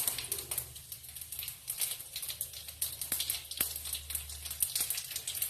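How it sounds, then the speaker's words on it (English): Spice seeds, red chili and bay leaf sizzle in hot oil at the start of a Bengali shukto. The frying is a soft, steady crackle with scattered sharp pops, close and fairly quiet, with no voices. "This needs to fry for a minute first."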